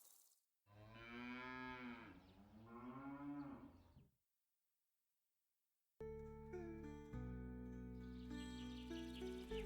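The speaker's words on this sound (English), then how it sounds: "Only the rhythm of birds, the distant cry of a cow." A cow lowing near an ashram in India: two long, drawn-out moos, a short silence, then another sustained, tonal bellow, loud and clear with no talk.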